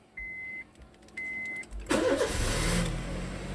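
A 2013 Honda Jazz RS automatic is started: two short electronic chimes and a pause, then a starter crank catches and the engine settles into a steady, fairly close idle.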